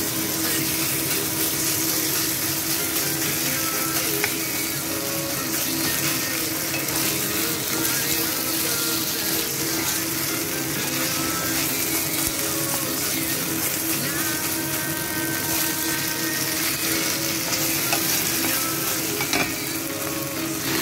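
Marinated minced pork stir-fries in a pan with garlic, giving a steady loud sizzle and crackle with occasional scraping stirs throughout, no talk.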